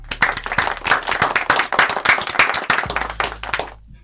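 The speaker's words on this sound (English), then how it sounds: "We clap it one time for DJ Real P." A room of people clapping loudly and quickly for a DJ on a live show, dense overlapping handclaps in a fast, even rhythm that fade out at the end.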